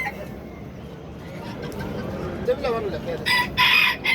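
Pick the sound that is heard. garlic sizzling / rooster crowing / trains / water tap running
rooster crowing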